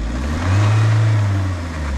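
A Mahindra Thar stuck off-road revs its engine in one loud, swelling burst that holds for about a second and then settles back, close by and with no voices.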